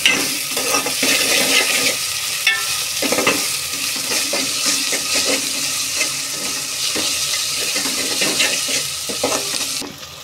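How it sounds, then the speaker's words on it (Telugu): Sliced onions and masala sizzle steadily in a hot pan while a spoon stirs and scrapes through them, a loud continuous frying hiss with irregular scraping strokes throughout. "ఉల్లిపాయలు ఫ్రై అవుతున్నాయండి"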